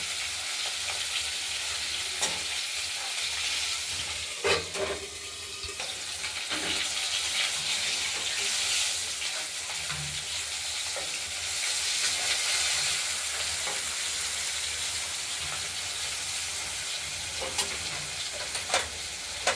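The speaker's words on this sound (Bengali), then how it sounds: "আমার মাছগুলো এক পিঠ ভাজা হয়ে গেছে, আরেক পিঠও ভেজে নিচ্ছে।" Pieces of freshly cut katla fish fry in a pan of hot oil, a steady close sizzle running throughout with a few sharper crackles and pops, no voices.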